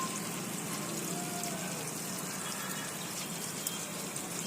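Cold tap water runs steadily and close by while someone rinses their hair, a continuous broadband splashing rush with no pauses.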